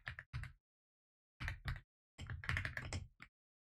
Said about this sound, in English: I got something called a creamy keyboard, which does this.